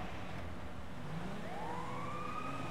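Ambulance siren in GTA 5 Online rising into a wailing tone over steady traffic and engine noise in a race, fairly faint and distant.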